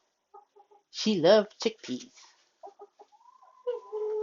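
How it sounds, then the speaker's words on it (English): A molted Orpington hen in a winter chicken coop gives a close burst of rising, squawky clucks, followed by softer intermittent clucking, with a person talking nearby. "And that's my cuckoo chicken."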